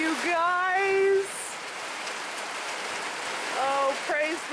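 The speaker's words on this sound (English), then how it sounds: "It's raining, you guys." Steady outdoor rain hisses and patters as a constant wash throughout, with someone speaking briefly over it at the start and again near the end.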